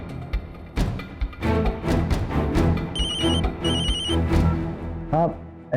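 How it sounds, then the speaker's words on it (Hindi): A telephone rings unanswered in a Hindi TV drama scene, its bell trilling in short repeated bursts amid music and background sound, with a brief voice near the end. "आप फोन नहीं उठा रहे हैं, गोपी बहन का फोन लग नहीं रहा है।"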